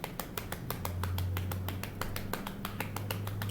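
Hands tapping on legs to imitate rain, a steady rapid patter of soft slaps continuing throughout, close and moderately loud with a low hum beneath.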